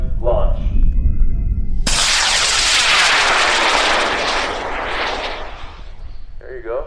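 High power rocket launch on an Aerotech K400 motor at a Kansas rocketry event: a sudden loud roaring whoosh bursts in about two seconds after faint voices, then a sustained broadband rush that slowly fades as the rocket climbs away, with voices returning at the end.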